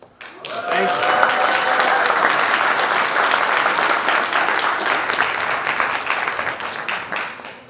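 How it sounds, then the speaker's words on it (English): A studio audience bursts into loud, sustained applause, dense clapping that swells quickly and holds steady for several seconds before fading, with a voice briefly over it at the start. "I don't know why you guys are clapping so hard"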